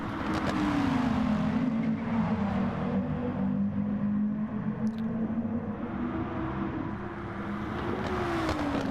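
Racing video game engine drone during a Festival of Speed online race, a steady buzzing race car engine holding pitch with slight revving shifts throughout, loud and continuous with no talk over it.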